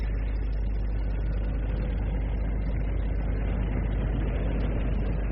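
Aircraft engine drone used as a radio drama sound effect, a steady, loud low-pitched rumble holding constant throughout with no breaks or other sounds.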